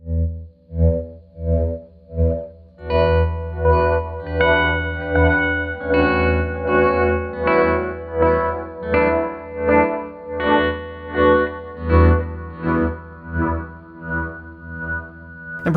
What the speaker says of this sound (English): Or what if I paired it with a delay and brought in some volume swells?